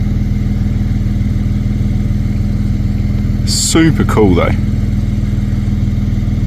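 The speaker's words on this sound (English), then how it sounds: "So I do apologise for the car noise in the background." A steady engine drone from passing traffic hums throughout near a conservation park in the Mallee, a low continuous rumble under a brief spoken remark in the middle.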